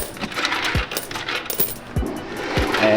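Coins collected from gumball vending machines clink and drop into a heavy money bag, a few distinct metallic hits in quick succession, close and fairly loud.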